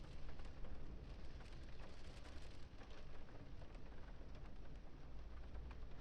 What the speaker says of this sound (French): Il pleut, c'est relou.